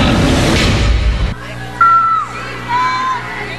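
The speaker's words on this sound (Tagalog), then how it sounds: "Malakas na hiyawan ang sumalubong sa cast ng I Heart You Pare sa Kapuso Mall Show sa Davao" A crowd cheers and screams for the cast of I Heart You Pare at a Kapuso mall show in Davao, a loud burst that cuts off, followed by scattered whoops and shrill yells.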